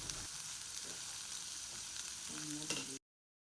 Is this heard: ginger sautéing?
yes